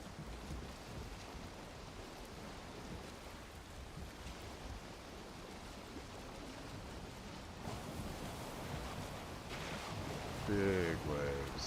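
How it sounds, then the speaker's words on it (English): Big sea waves roll and wash around a sailing boat in the video game Valheim, a steady broadband surf that grows slightly louder toward the end, with a faint voice near the close. "Big waves."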